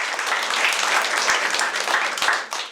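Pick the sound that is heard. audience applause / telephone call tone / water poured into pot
audience applause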